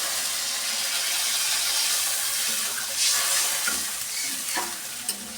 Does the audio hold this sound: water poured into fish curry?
yes